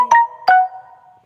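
A loud phone ringtone up close: two bright electronic tones, each ringing out and fading over about a second, with no voices.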